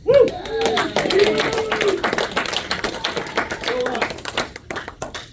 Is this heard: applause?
yes